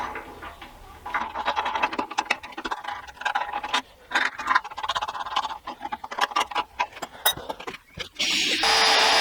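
Power drill working a metal sled being bolted onto a Nashorn Pak 43/41 cradle, spinning up and slowly feeding in to clean out a burr; intermittent grinding bursts with pauses, ending in a steady high whine.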